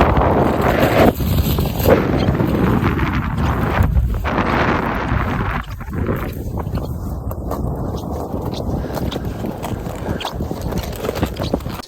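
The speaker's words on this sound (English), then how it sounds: "So you can sort of see just how hard the wind was blowing." Strong wind blowing along a snowy trail, a loud, continuous buffeting roar on the microphone that rises and falls in gusts over twelve seconds, heard alone.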